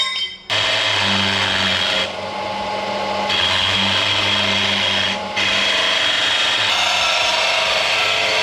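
A power tool cuts a shape out of a part for a buggy build, running steadily and loudly for several seconds with brief dips in pitch and load as it bites through the material.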